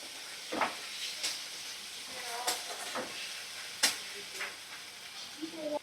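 Spice masala with chopped tomato and a spoonful of yogurt for egg biryani sizzles gently in a pan over medium flame, with soft scraping strokes of stirring recurring every second or so, close and quiet.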